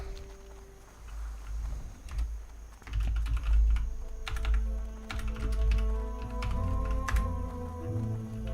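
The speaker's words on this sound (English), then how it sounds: "I hardly ever communicate in the game by typing" Rapid clicking of a computer keyboard as someone types a chat message during World of Warcraft Hardcore play, with bursts of keystrokes over a low in-game ambient hum.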